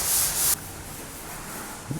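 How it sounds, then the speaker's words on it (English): A steady rasping hiss of sanding kitchen cabinets, louder and brighter at first, then softer and continuous with a brief knock near the end. "The never-ending sanding and preparation of kitchen cabinets continues."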